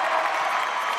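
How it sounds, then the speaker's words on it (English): A HYROX race crowd in Glasgow cheers an athlete on, a steady mid-pitched roar of many voices heard from a distance without a break. "The crowd's getting behind him. And you can hear that."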